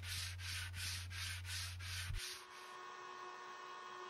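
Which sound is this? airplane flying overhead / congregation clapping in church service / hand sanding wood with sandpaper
hand sanding wood with sandpaper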